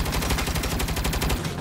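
Sustained automatic gunfire from the Saints Row (2022) video game, a fast, even stream of loud, close shots with no pauses and no talking.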